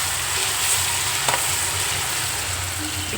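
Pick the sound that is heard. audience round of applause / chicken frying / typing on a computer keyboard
chicken frying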